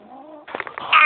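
A cat yowling loudly and close, a low drawn-out moan that breaks into a harsh, rising caterwaul at the end, all within about a second.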